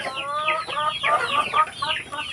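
Young hens cluck and chatter close by in a farmyard pen, a busy overlapping flock of short rising calls that continues throughout.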